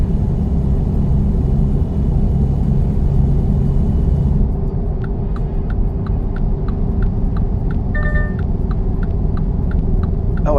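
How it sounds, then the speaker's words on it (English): Five-cylinder car engine in the American Truck Simulator video game, a loud steady rumbling drone with a constant low throb and faint ticking clicks over it, continuous throughout, with no talk. "I love the sounds of the sound that 5 cylinders have, Aaron"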